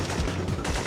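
Rapid gunfire from a PlayStation video game demo, a dense continuous burst of shots filling the short moment at steady loudness with no talking.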